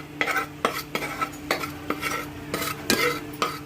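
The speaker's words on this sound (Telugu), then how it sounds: "వేసుకొని పసుపు, సాల్ట్ వేసుకొని మిక్స్ చేయాలి" Oil, turmeric and salt stirred in a pan for paneer curry, a spoon scraping in repeated close strokes with light sizzling and clinks of utensil against metal, no voices.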